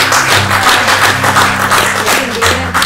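An audience claps steadily through a relaxed Indonesian talk-show conversation about the Maluku region, a dense continuous patter of hands filling the whole moment at close range, with a low musical hum underneath.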